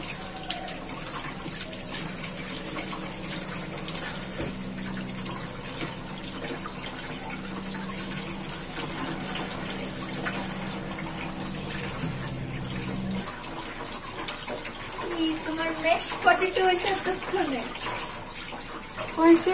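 Running tap water while washing a freshly cut fish in a home kitchen: a steady gushing stream splashes continuously, its tone shifting partway through as the flow changes, and a voice speaks over it.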